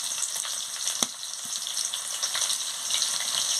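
Chopped onion frying in hot oil with panch phoron and dried red chillies: a bright, close, constant sizzle with a single sharp clink early on, and no speech.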